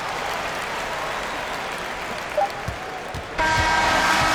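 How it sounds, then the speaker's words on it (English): Home crowd cheering in the NBA 2K23 basketball video game after a victory: a steady wash of crowd noise and applause that suddenly grows louder and brighter near the end, with no commentary over it. "So the home crowd happy here as they get the victory."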